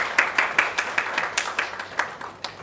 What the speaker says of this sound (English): big round of applause to Raj